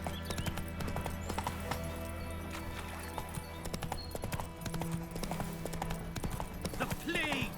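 A horse gallops in The Witcher 3 video game, its rapid clip-clop hoofbeats repeating steadily and up close over ambient game sounds, with a brief whinny and someone speaking.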